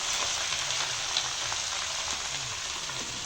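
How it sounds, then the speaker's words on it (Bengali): Red amaranth leaves (lal shak) dropped into hot oil in a pan hiss with a steady, loud, close frying sizzle, unbroken crackle filling the whole stretch. "এই যে আমার মা লাল শাক ছেড়ে দিল। দেখুন গাইস কেমন আওয়াজ হচ্ছে"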